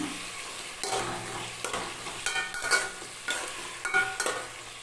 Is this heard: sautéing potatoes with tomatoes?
yes